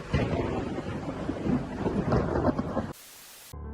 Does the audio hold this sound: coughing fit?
no